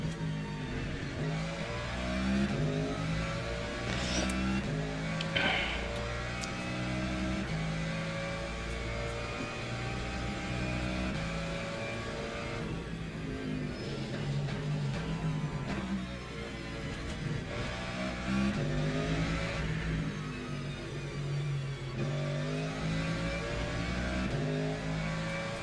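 Ferrari race car in Le Mans Ultimate, its engine droning continuously and loud for the whole stretch, with shifting revs and higher whines rising and falling as the car races on, no talk over it.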